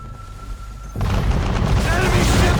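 Naval cannon fire from enemy ships during a sea ambush in Assassin's Creed III: a sudden loud boom starts about a second in and leads into sustained heavy rumbling and crashing, with a voice speaking over the noise.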